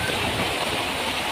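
Heavy rain pouring down in a steady, dense roar, loud and close, with no voices.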